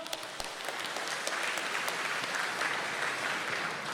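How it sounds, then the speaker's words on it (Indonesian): A steady wash of audience applause from a crowd at a live event, continuous and fairly distant, with no voices rising above the clapping. "Boleh tepuk tangan buat kita semua."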